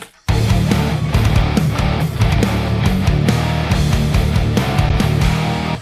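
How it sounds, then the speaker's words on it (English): A rock song plays loud and full after a brief silent start, with a driving rewritten bass line locked to punchy drums throughout. "Now this part coming up here, I rewrote the bass to sound like this."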